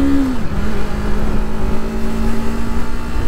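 Yamaha R3 motorcycle accelerating through Los Angeles traffic, a steady close engine drone with a rising then level tone, loud and continuous with no talk.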